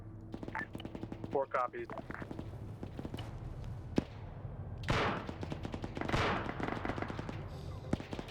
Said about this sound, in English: they're firing at the guys coming in down there